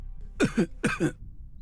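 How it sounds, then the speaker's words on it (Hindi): Two close, loud coughs, each a rough double burst, sound one after the other against a quiet background. "ऐसे खांसिए मत, जा रहा हूँ।"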